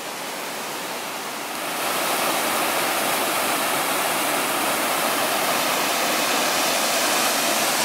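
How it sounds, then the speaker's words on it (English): Steady broadband roar of a waterfall, the first set of falls above a cold swimming hole on a wild trail, rising louder after two seconds as the falls come close and then holding a constant rushing wash with no voices. "Oh, there's the first set of falls."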